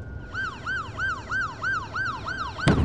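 A police car siren wails in a steady rising-and-falling cycle, about eight even sweeps in a few seconds at moderate distance, with no talk, ending in a sharp knock.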